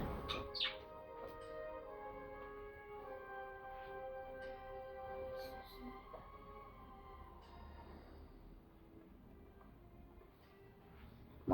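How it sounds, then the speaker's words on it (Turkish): Pet budgerigars chirp indoors, their sustained warbling tones layered over one another and continuing for several seconds against a quiet background, with no talking. "muhabbet kuşları olduğu için belki çok ötüyorlardır"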